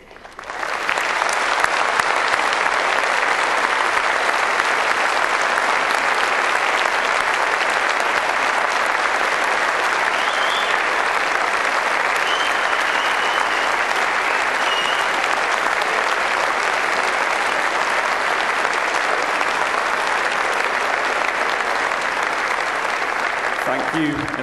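A large audience at a Cardiff University graduation ceremony gives a long, even round of applause, a dense wash of clapping that holds steady at full strength for the whole stretch before easing very slightly at the end.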